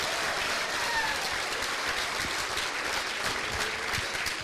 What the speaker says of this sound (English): Let's have a big round of applause for all of our Little Miss and Mr.